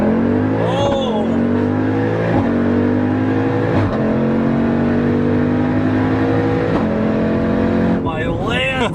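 A 900hp Jeep Trackhawk running on E85 revs hard and accelerates, its engine note climbing loud and close across several seconds. Voices shout excitedly near the end.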